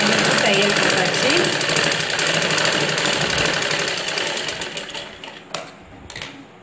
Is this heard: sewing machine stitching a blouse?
yes